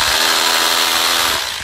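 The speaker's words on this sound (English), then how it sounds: "This is a real drill." Handheld power drill running steadily at close range during a seafront building renovation, a continuous loud whine that holds for over a second then begins to wind down near the end.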